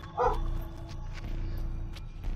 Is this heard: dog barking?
yes